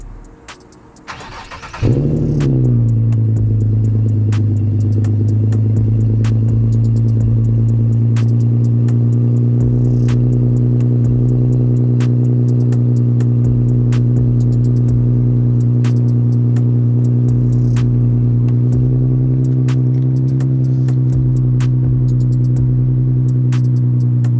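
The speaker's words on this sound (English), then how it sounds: "teaching y'all how to drive your Infiniti or drive pretty much any car in manual mode" An Infiniti car engine cranks and starts, then holds a steady, loud rumbling drone that stays close and even, with faint ticking clicks throughout and no talking.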